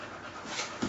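A pet dog pants close by in a quick, breathy rhythm, with a small snuffling sound near the end and no voices.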